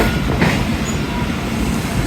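Karachi Express passenger train running at speed, roughly 115 to 120 km/h, between Rohri and Lahore: a steady, loud rumble of wheels and carriage noise heard from on board.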